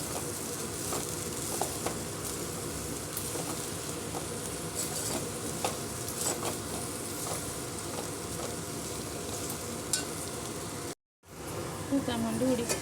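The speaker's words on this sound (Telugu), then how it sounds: "బాగా ఈ ఆయిల్లోనే ఫ్రై అవ్వాలండి బెండకాయలు." Okra frying in oil makes a dense, continuous crackling sizzle close by, steady throughout with one brief cut to silence near the end, and some speech mixed in.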